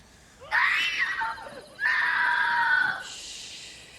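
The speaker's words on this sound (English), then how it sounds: "his answer is cut off by a scream as we cut away to District 12" A shrill scream rings out in a Hunger Games movie scene, sharp and loud, then breaks off, and a second long, strained scream follows and fades out.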